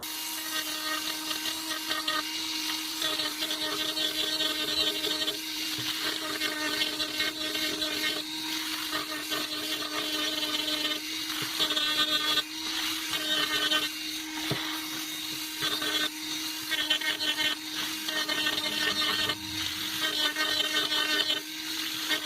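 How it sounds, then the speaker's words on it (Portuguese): A handheld rotary tool with a grinding bit levels metal plates against the wooden body of a gangirá instrument, giving a steady high whine with a sustained tone, broken by rasping grinding bursts as the bit bites, close and continuous. "com o auxílio da micro-retífica e a broca de desbaste, nivelar as chapas ao corpo do instrumento"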